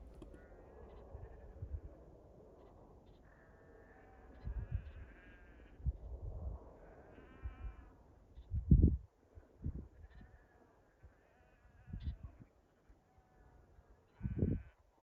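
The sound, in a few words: sheep bleating while being herded on a hill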